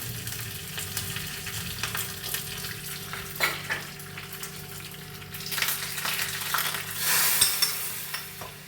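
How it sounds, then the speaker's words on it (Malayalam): Fenugreek seeds, green chillies and curry leaves fry in hot oil for a home-style curry, producing a steady close sizzle with crackling pops and occasional stirring scrapes that swell louder toward the end. "ഉലുവ ഒക്കെ ചൂടായി ഇതാ പച്ചമുളക് ഇട്ടു ഓഫാക്കി കറിവേപ്പിലിട്ടു"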